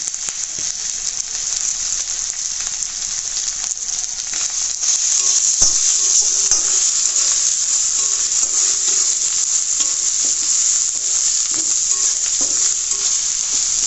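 Spices for a dried fish curry with green tomato frying in a pan, a loud continuous hiss of sizzling oil with faint scrapes of stirring, growing slightly louder midway.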